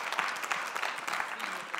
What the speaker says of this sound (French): moi, j'applaudis, là.